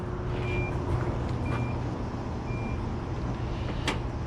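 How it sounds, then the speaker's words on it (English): A 2014 Infiniti QX80 locking with its remote: a few faint, evenly spaced short beeps about a second apart, sitting over a steady outdoor rumble, with no talk. "I'm gonna lock the car and then I'm gonna start it with the remote."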